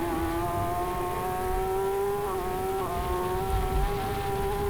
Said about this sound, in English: Chris McRae, mid-corner, was about a bike length away from Mario Richard, and now through turn 9